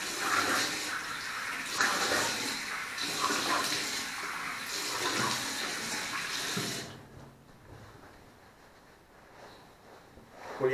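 Tap water runs steadily into a sink for rinsing during a wet shave, a broad continuous splash that cuts off abruptly, leaving a quieter trickle behind.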